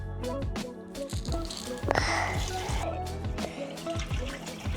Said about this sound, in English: now it's time to get the tank filled up